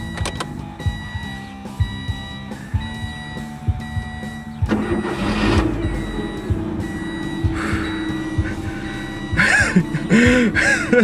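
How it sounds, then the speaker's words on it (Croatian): Clicks and beeps, then a car engine cranks and catches, settling into a steady low idle with more electronic chirps. "svako jutro zabrinuto palite svoj automobil"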